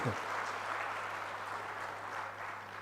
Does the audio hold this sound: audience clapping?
yes